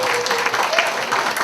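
An audience at a book concert applauds with steady, dense clapping that stays fairly loud and even throughout the short moment, with faint voices beneath.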